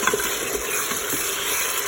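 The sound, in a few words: spices stirred into frying chicken in Cookeo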